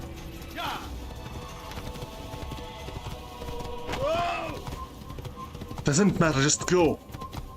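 Horse hooves clip-clopping in Assassin's Creed, a steady trot under game sounds, with a voice speaking briefly near the end.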